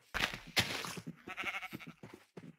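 A Minecraft sheep bleats in a rapid, wavering series of calls, loud and close, with a few short bleats trailing off at the end.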